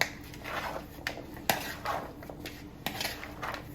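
Pasta salad with horseradish being stirred in a bowl, a spoon clinking and scraping against the sides in quick irregular knocks, fairly close.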